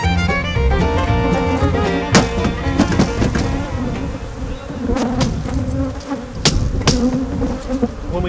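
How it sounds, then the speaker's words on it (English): Honey bees buzz loudly and densely up close while bulk bees are shaken out in April rain, with sharp knocks and thumps from the shaking cutting through the swarm. "When you're shaking bulk bees or package bees in the rain in April"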